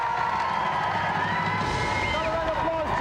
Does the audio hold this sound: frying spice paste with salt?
no